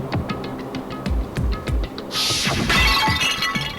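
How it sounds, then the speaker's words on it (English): A Monokuma bottle shatters across someone's head in the Danganronpa video game, a burst of breaking glass with scattering, tinkling shards following a run of short thumping hits. "I grabbed the Monokuma bottle from the shelf and smashed it across her head."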